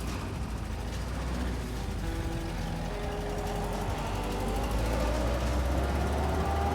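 Willys CJ-2A post-WWII military jeep pulling away in first gear, its steady low engine drone continuous and fairly faint throughout, with a rising tone near the end as it gathers speed.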